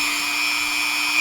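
A small power tool smooths a filled patch on a junk guitar body, giving a steady high-pitched whine with a constant motor tone that rises slightly at the very end, close and alone.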